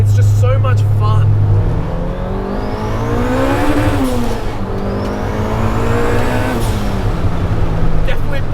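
A 400HP turbocharged B18C Honda Civic Si EM1 accelerates hard on twisty hill roads, engine rising and falling through gear changes, loud and close throughout, with someone talking over it.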